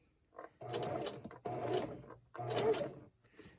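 Sewing machine stitching a Christmas table runner in three separate bursts, each a close rattling needle run with short pauses of quiet between them.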